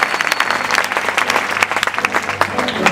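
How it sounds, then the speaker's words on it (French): A church service crowd applauds loudly and steadily, dense clapping filling the room throughout with voices mixed into the applause. "Est-ce que tu peux acclamer pour le roi de roi?"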